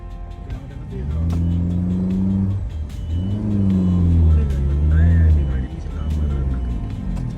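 Large vehicles edge along a narrow mountain road near Dhanaulti, their engines humming and revving steadily up close, while people talk over the engine noise throughout.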